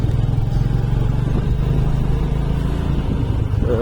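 A vehicle engine idles steadily close by at a Shiv Jayanti procession in Borkhed, giving a continuous deep rumble with no voices over it.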